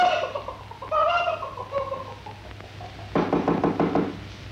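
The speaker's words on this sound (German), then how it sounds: "Natürlich, der ganze Hühnerhof vor der Haustür." Farmyard chickens clucking and cackling before a house in a Swiss dialect radio play, with a rapid run of rhythmic knocking-like clucks near the end over a low steady hum.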